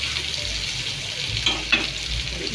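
Washed green leafy vegetables sizzle and hiss in a hot pan, giving a close, steady frying crackle with a couple of brief stirring scrapes.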